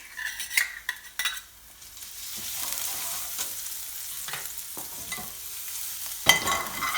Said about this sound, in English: So I'm going to add some garlic in here.